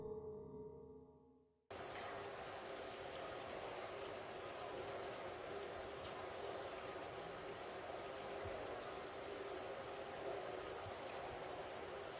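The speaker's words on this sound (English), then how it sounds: "Is there a fucking waterfall in this house?" Water rushes continuously inside a house like a small waterfall, a dense steady roar that cuts in abruptly after a short quieter moment and holds unchanged, moderately faint and heard without talk.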